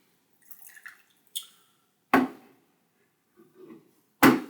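Water is poured over raw puer tea leaves to rinse them, producing a few soft splashes and drips separated by pauses, with two sharper close pours.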